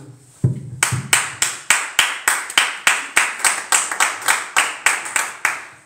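A church congregation claps together in a steady, evenly spaced rhythm, a series of sharp, bright unison claps that begin after a brief quiet moment and continue at an even tempo to the end.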